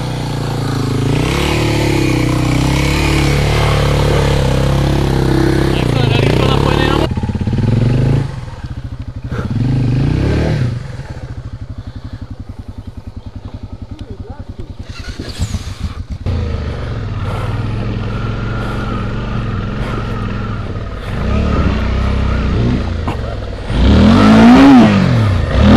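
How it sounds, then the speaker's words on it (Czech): A light motorcycle engine runs loud and close, revving hard at first, then dropping to a rough, pulsing idle with clattering, before surging again at the end. "Lehká motorka, no."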